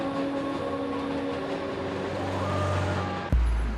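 The 7 subway train in Queens rolls past on elevated track with sustained tonal wheel and motor whine, steady and fairly loud, ending in a sudden low thump.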